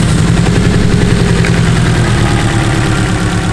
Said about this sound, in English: cylinder 2 is misfiring